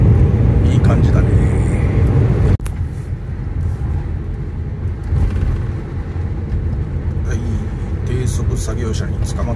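A car drives at 40 km/h along a snowy mountain road toward the Mizuho Highland ski area, its tyres and engine making a steady, continuous low rumble throughout.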